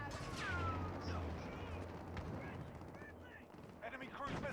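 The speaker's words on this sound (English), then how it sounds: "Allied cruise missile away." Cruise missile strike in the Call of Duty Modern Warfare beta, heard as a burst of heavy explosions and rumbling impacts mixed with rapid gunfire and whooshing game effects, with radio-style voice callouts layered over the battle.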